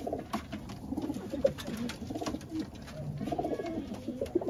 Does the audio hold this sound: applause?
no